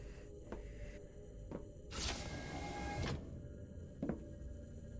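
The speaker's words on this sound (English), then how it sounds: "Cockpit doors closed." An aircraft cockpit door slides shut with a loud, broad mechanical rush lasting about a second, framed by a few short clunks and taps in a quiet cabin.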